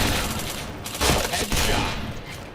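Rapid automatic gunfire from the online shooter Point Blank rattles loudly in dense, continuous bursts with brief dips between volleys.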